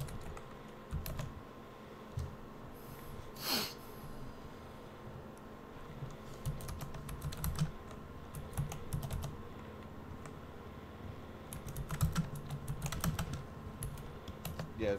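Computer keyboard typing in a GTA 5 roleplay session, a steady run of quick, close key clicks with scattered louder taps, no talk.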